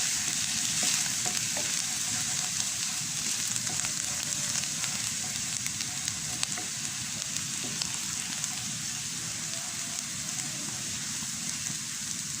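Garlic sizzles and fries steadily in a pan, a dense continuous crackle with occasional stirring scrapes, loud and close, until the cloves turn lightly brown.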